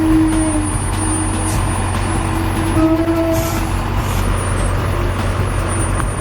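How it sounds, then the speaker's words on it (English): A heavily loaded logging truck reversing down a steep slope, its engine a loud, steady low roar with a constant rumble, close by, with faint higher tones and hiss over it. "A heavily loaded truck slowly reverses down a steep slope, its engine roaring with power."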